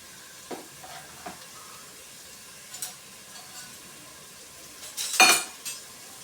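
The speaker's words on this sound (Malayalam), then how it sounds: "സവാള ഇട്ട് കൊടുക്കാം. 2 വലിയ സവാള സ്ലൈസ് ചെയ്തതാണിത്." Finely chopped onions, two large ones, hiss quietly in a pan for a Kerala-style mutton curry, with scattered scrapes and clinks of a spoon stirring and one louder clatter near the end.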